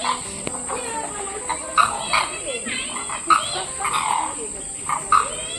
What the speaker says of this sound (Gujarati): જો આ છે કરકરો કુંજ, જે કરકર કરકર કરકર બોલે.